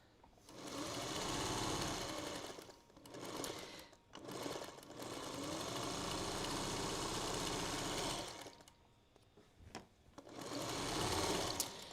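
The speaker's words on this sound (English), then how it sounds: "once I've sewn my seams on either side of that line" A sewing machine stitches quilt block seams in long runs, a fast buzzing whir that stops briefly and starts again several times, fairly quiet and close with no talking.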